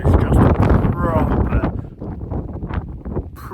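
Strong wind blasting across a high cliff edge about 500 feet up, a loud, continuous buffeting roar pounding the microphone, with a voice talking through it.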